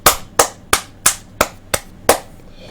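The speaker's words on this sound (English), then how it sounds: "Just a huge clap to the NHS, by the way" Seven sharp, separate claps ring out at an even pace, each one loud and close with a short decay, in applause for the NHS during the coronavirus pandemic. No one speaks over them.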